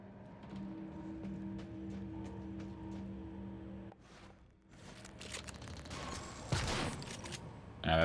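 Gunfire in the sci-fi video game Prey: quieter sharp shots over a humming ambient drone, then a louder burst of firing and impacts toward the end.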